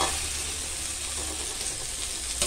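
Figs sautéing in a pan for a fig poriyal give a steady, soft sizzle with faint stirring, even and continuous throughout, with no voices.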